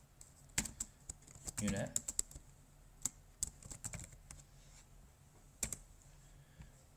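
Fingers tap out a folder name on a computer keyboard while organizing Google Drive, giving a scattered run of crisp, close key clicks in short bursts, with a brief spoken word among them.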